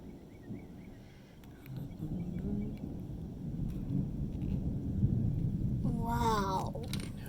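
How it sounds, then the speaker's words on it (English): Rolling thunder from a summer thunderstorm in Tennessee rumbles low and continuously at a distance, swelling slightly toward the end, with faint voices and light wind in the background. "Rolling thunder."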